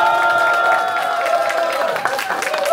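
An audience at a finance workers' union staff retreat applauds a presenter being introduced, a dense, steady wash of clapping from many hands with some crowd murmur, sustained throughout.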